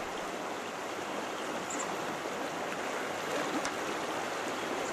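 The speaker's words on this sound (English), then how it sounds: "Down here is the Goldstream River." Goldstream River flows with a steady, full rushing wash of water that stays loud and even throughout, with no voices.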